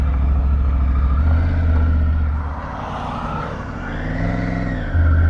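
A Triumph Tiger 900 GT Pro motorcycle pulls away, its engine close and loud with a low steady drone, then revs rising and falling through the gears as it gets under way.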